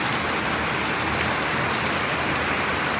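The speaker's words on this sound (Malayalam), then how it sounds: "ഇവിടെ ഭയങ്കര മഴയാണ്." Heavy rain pours in a dense, steady roar that fills the whole clip, loud and close, with no voices.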